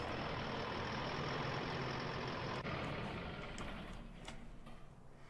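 An older, tidy farm tractor's diesel engine idles steadily and loudly nearby, a continuous low rumble that eases slightly toward the end, with no voices.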